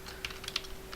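Keys tapped on a computer keyboard while typing C code, a few quick clicks with one sharper stroke, close and fairly quiet over a faint steady hum.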